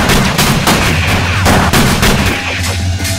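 Gunfire bursts loudly and repeatedly in a cutscene from the PlayStation game Fear Effect, a close run of sharp shots for about three seconds with no talk.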